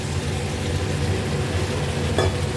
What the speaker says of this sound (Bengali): দিয়ে এটা আমি ভালো করে আরেকটু কষিয়ে নেব